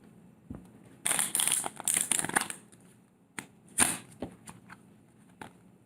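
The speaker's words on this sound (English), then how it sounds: "he then takes half the cards, turns it over, then gives it a shuffle" Playing cards shuffled by hand as part of a magic trick, heard as a few short crisp riffling bursts in quick succession, close and fairly quiet against a still background.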